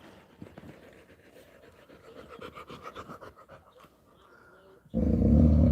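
Puppies pant close by in quick, rhythmic breaths for several seconds, then a sudden loud burst of rough, low growling and scuffling noise takes over at the end.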